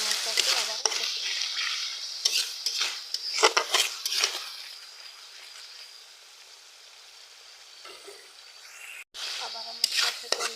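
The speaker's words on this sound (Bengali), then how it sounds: "আবার মশলার সাথে ভালোভাবে কষিয়ে নিয়েছি" Onion frying with ground cumin, turmeric and chili, a bright hissing sizzle with repeated clinks and scrapes of a utensil stirring in the pan, easing quieter midway before more stirring knocks return.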